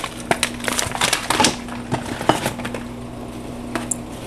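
Oats are stirred into a chocolate mixture, with close, rapid clicks and scrapes of a spoon against a bowl coming in quick irregular bursts that thin out toward the end, over a steady low hum.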